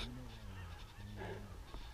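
Geese honking overhead during a waterfowl hunt near a pond, a flock giving repeated loud nasal honks that overlap continuously, close and clear with no talk.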